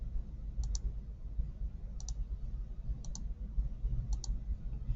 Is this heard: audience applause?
no